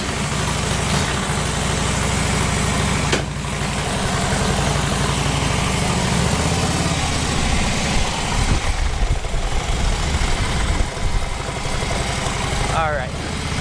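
A Harley motorcycle engine idles in a low, steady rumble beside a pickup truck, loud and continuous throughout with a few brief knocks and shifts partway through.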